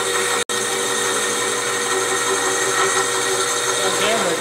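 A power drill with its bit boring into a heavy CNC gantry table while wheels are fitted, giving a steady, loud, continuous whine that breaks off for an instant near the start and then runs on.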